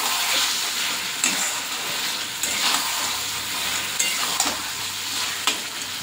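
Chicken fries in a small amount of oil with spices and a little chili in a pan, giving a continuous close sizzle broken every second or so by scraping stirring strokes.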